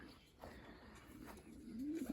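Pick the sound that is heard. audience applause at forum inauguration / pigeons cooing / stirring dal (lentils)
pigeons cooing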